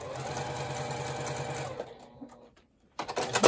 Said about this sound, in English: I am just going to sew from corner to corner.